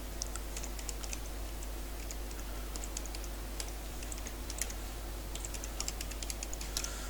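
Soft, steady keyboard typing with quick light clicks runs throughout, close but quiet over a constant low electrical hum.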